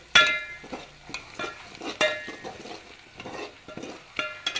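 Dal being stirred into mutton curry in a pot, heard as repeated scraping strokes of a spoon against the pot with a soft sizzle underneath, at a steady rhythm.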